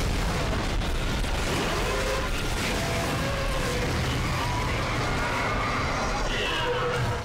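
Line gun firing in the video game Dead Space, a dense, loud blast-heavy roar of explosive bursts and rumbling debris that fills the whole stretch without letup.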